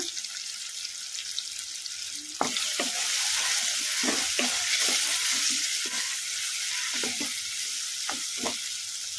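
Tomatoes for palak sambar sizzle in an oily pan while a spoon stirs them, the loud steady frying hiss broken by repeated scraping strokes against the pan.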